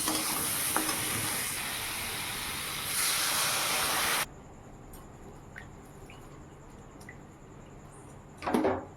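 Water poured into a hot pan of paneer curry gives a loud, steady hiss and sizzle for about four seconds, then drops to a quieter simmer with faint stirring clinks and a brief louder scrape near the end.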